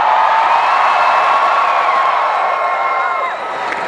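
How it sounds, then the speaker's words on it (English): An audience cheers loudly for several seconds at a practice during an Airband 2012 improv show, a bright sustained wave of voices and whoops that tapers slightly near the end. "And then you guys would cheer."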